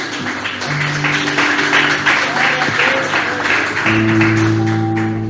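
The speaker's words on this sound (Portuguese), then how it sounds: "dar uma linda salva de palmas para Jesus" Church congregation applauding during a service, a steady wash of clapping hands with sustained organ or keyboard tones underneath, fairly loud and close.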